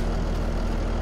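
A borrowed 200-horsepower farm tractor idles with a steady, low, throbbing engine rumble, close and constant for about a second.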